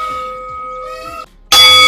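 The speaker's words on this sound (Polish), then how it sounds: "niech zabrzmi gong wiedzy" A quiz-show gong announcing the start of a parish knowledge contest rings out loud and sudden near the end, bright and sustained, following a stretch of steady tonal music.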